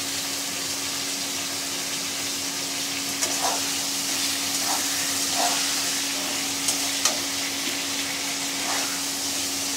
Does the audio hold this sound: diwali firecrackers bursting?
no